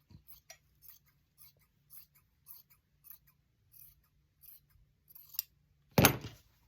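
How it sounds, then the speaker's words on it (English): Scissors cutting fabric along a fold during sewing, with a string of small soft snips at a steady pace, quiet and close, then a louder rustle of cloth near the end, with no talking. "And just go cutting along the fold."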